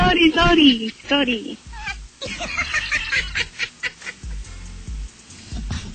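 A cat meows several times in rising and falling cries near the start, followed by people talking over it.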